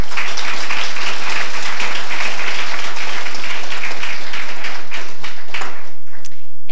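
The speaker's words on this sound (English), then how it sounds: "I want to ask you one more time to give a round of applause for the" Audience at a moot court competition event gives the panelists sustained, dense applause that fills the room steadily from start to finish.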